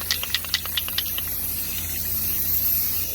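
Semi-gloss black Rust-Oleum spray paint is applied to car parts outdoors, with a few short hissing bursts followed by one long steady spray, close up, with no talk.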